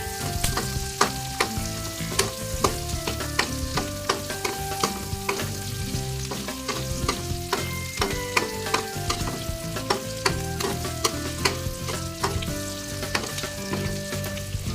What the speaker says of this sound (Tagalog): Igisa na rin natin guys yung ating carrots